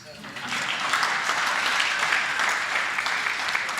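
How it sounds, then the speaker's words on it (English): Audience at a ministerial infrastructure opening breaking into applause, the clapping swelling after a brief start and holding steady, with voices audible through it. "I don't know why we are not clapping hands."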